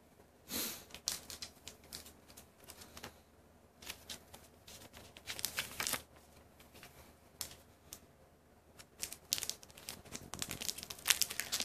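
Crinkling and tearing of the sealed foil wrapper on a Magic: The Gathering Return to Ravnica booster pack, with irregular crisp rustles and rips close up, no talking.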